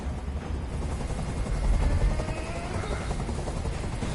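Helicopter in the video game Detroit: Become Human hovering overhead, a continuous loud rotor rumble and whir that stays steady and close throughout.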